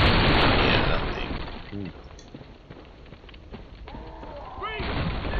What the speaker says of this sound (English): Alright, let's try to get past the cannon now.